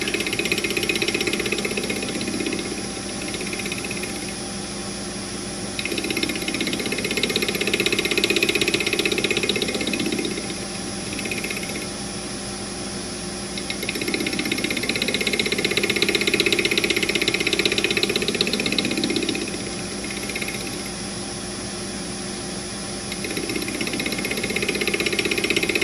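Metal lathe taking light cuts on a round part loosely gripped on its inner diameter, being turned so a heat sink fits; a steady mechanical whir with rhythmic rising and falling scraping tones, continuous for the whole span with no talk.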